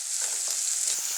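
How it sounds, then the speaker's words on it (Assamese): Onion and ginger-garlic paste fry in a pan, giving a brief, steady hiss of close sizzling oil. "এইখিনি এতিয়া ভাজি আছোঁ"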